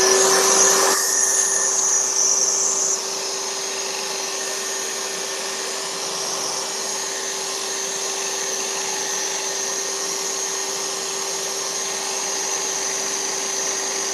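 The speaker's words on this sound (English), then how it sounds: "This is half-inch Baltic birch I'm cutting on tonight." A power tool cuts half-inch Baltic birch plywood with a loud, steady whining hum and a sharper high-pitched cutting edge in the first few seconds, then settles into a continuous even drone alone.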